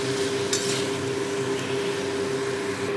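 Spiced vegetables fry and get stirred in a pan, a steady close sizzle with scraping stirs and a brief clatter of utensil against metal, no talking.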